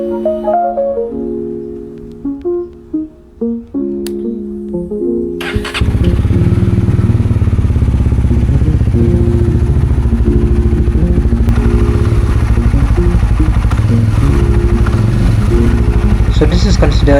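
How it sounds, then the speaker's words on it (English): A motorcycle cold-starts after sitting overnight: some brief sounds and a sudden catch, then a loud, steady close-up idle that runs on evenly to the end. "I'm giving my motorcycle a cool start"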